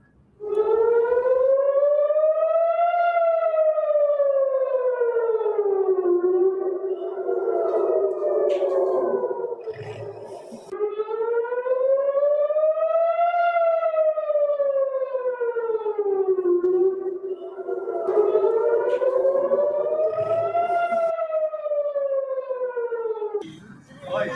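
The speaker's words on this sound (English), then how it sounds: "sirens rang out in different parts of Israeli cities" Air raid sirens wail across Israeli cities during a missile attack, a loud rising and falling tone cycling repeatedly with brief bursts of other noise between cycles.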